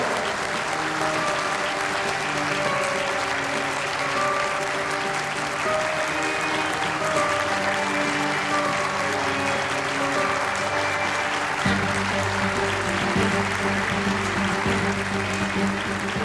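An audience at a Turkish rally-style event gives steady, dense applause throughout, with music or voices faintly layered beneath the continuous clapping.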